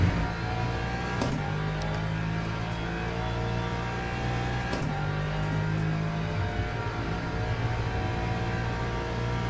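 A Ferrari race car engine in Le Mans Ultimate hums steadily at high revs, close and constant, with brief shifts in pitch during gear changes and no talking.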